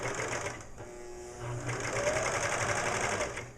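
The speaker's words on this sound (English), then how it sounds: "So now I'm going to serge the neckline." A serger sewing machine stitches along a gown neckline, its rapid mechanical whirring running in close bursts with a short pause near the start, and no speech over it.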